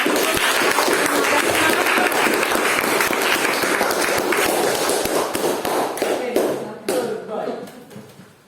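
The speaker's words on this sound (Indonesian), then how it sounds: "Aplaus." An audience at a teacher-training class presentation breaks into applause, a dense, sustained wash of clapping that stays loud for several seconds before thinning out and fading to scattered claps.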